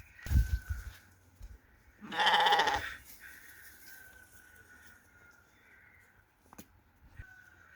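Sheep bleat nearby in the open near a stork being released, with one loud, drawn-out bleat in the middle and fainter calls and rustling around it.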